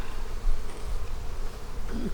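Honey bees swarm over an opened hive during a fall bee barn inspection, a steady, dense buzzing that holds at an even level for the whole stretch with no voices.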